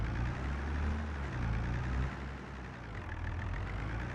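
A tractor engine idles steadily in Farming Simulator 22 on the Zielonka map, a low, continuous rumble with a slight swell in level partway through and no talking.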